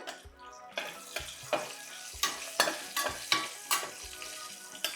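Slit green chillies sizzling in hot oil in a pan for sambar, with a steady frying hiss broken by repeated scraping stirs at a regular rhythm, close and fairly loud.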